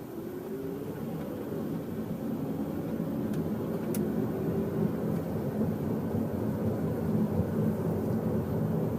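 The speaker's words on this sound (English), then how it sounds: "a lot of what I'm hearing is going to be due to those tires becoming old in age" Steady low rumble of road and tire noise inside a moving 2014 Toyota Sienna AWD riding on old, aged tires, a continuous broadband drone that holds even throughout with no voices.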